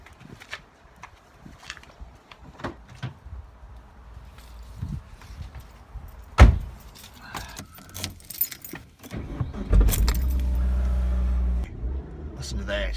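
A 2001 Suzuki Aerio starts up after keys jangle and a door thuds: the engine cranks and catches near the end, then settles into a steady, close idle.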